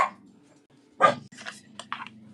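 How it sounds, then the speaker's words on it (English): Dogs in a home craft studio give a few short, close barks and whimpers in quick succession, separated by brief pauses, with no one speaking. "a studio that doesn't have barking dogs in it"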